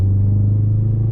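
A car rolls straight through an intersection without stopping, a loud, close low engine rumble with steady tire roar that swells briefly and then fades as it passes.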